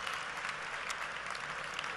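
Applause from a political party convention audience, a steady dense wash of clapping that holds at an even level from start to finish with no voices over it.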